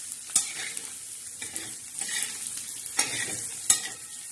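Egg chutney with green chilli, garlic and salt being stirred in a pan, spatula scrapes landing at irregular intervals over a soft, steady sizzle close by.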